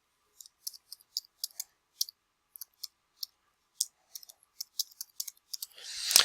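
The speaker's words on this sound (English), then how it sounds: "I'm just going to type this in there real quick." Typing on a computer keyboard comes through as quick, crisp key clicks in uneven bursts, close and clear against silence, ending in a brief louder rustle.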